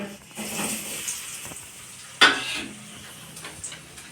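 Fennel seeds and spices frying in oil in a home kitchen give a soft, steady hiss, broken by one sharp clank of a utensil against the pan midway and a few lighter scrapes of stirring.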